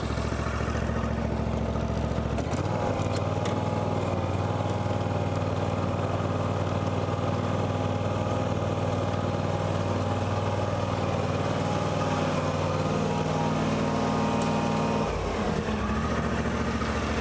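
A John Deere X350 riding mower engine runs steadily at idle, loud and close, with a steady drone throughout and a brief dip near the end.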